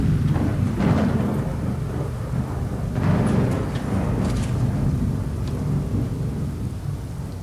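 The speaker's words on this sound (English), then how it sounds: "I'm on my way out of this damn rain." Steady heavy downpour with rolling rumbles of thunder in Fallout 4, a loud continuous wash of rain with swelling booms.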